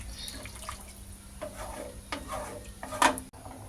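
Mushroom biryani masala being mixed in a pot, a soft scraping stir with faint liquid sloshing and a brief louder clank near the end, close and fairly quiet with no talk.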